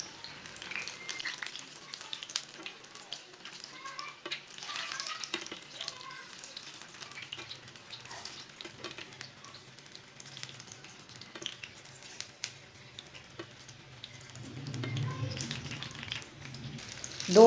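Leftover-curry kebabs fry in a little oil in a pan, giving a steady low sizzle throughout that swells louder near the end, with no talk.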